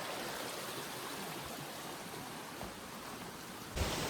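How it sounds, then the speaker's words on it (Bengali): Water runs steadily through a forest stream that feeds a waterfall in monsoon-season Keonjhar, Odisha, a continuous close rushing wash with no pauses, briefly swelling louder near the end. "জল অনবরত বয়ে চলেছে, মানে এটাই হচ্ছে ওয়াটারফলসের সোর্স"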